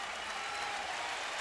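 A baseball stadium crowd of over 21,000 applauds for a pitcher in a continuous wash of clapping, steady and fairly distant throughout the short stretch.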